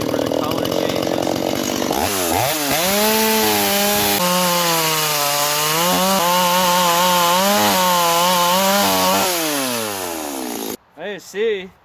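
A chainsaw bites and shaves along a wood block, its engine revving and falling in a steady, loud whine that lasts for several seconds and then cuts off, followed by a couple of brief idle blips.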